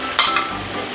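A potato starch and water slurry goes into a hot pan with bok choy, giving a steady close sizzle with a brief splash as it hits and some stirring.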